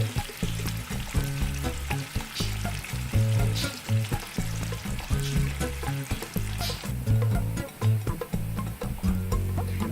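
Onions frying golden brown in a pan for chicken yakhni pulao, a loud continuous sizzle with rhythmic stirring and scraping throughout, no speech.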